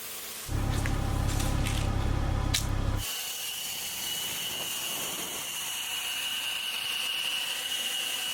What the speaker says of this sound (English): now I'm just gonna go ahead and rinse the whole car down